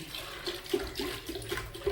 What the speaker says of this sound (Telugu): ఇదిగోండి చక్కగా పాలు ఇందులో పోసేస్తున్నానండి